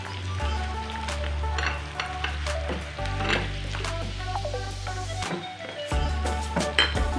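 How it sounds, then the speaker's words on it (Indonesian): Shallots, garlic and onion fry in a hot pan with a continuous sizzle, punctuated by stirring scrapes and light metallic clinks of a utensil against the pan, heard up close without voices. "kita tinggal tumis saja bawang merah, bawang putihnya, kemudian bawang bombaynya kita tumis juga"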